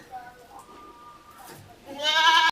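A five-month-old Hyderabadi goat with a pink face bleats loudly once near the end, after a quieter stretch of a person talking.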